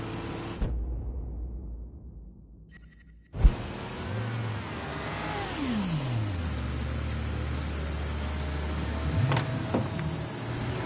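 A car in Mafia 3 starts up and settles into a steady low engine rumble after a brief thump and whirring, with a rising and falling revving tone, close and continuous.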